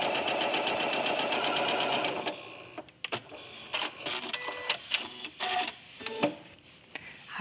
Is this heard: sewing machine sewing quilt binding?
yes